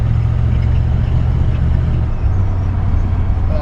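Inside the cab of a 1951 Chevrolet 3100 pickup while driving, a loud low engine and road rumble fills the space with a steady airy wind hiss over it.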